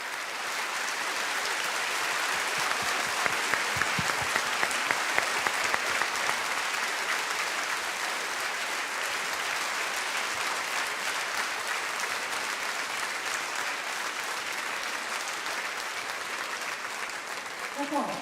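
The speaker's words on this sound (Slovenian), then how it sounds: "Veliki aplavz in veliki hvala vsem!" Audience applause at a children's song-and-dance festival, a long sustained burst of dense clapping from a large crowd, staying loud and even throughout.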